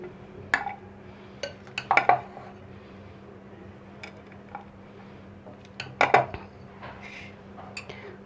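Chana chaat is served onto a plate, with metal spoon scrapes and dish clinks coming in short, close bursts over a quiet kitchen background, no talking.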